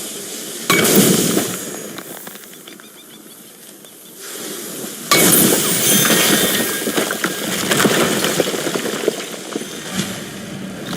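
Hammer blows on a chisel in the God of War video game come as loud, bursting, hissing impacts with a clangy ring, each followed by sustained noisy rumble, alongside game sound and no talk.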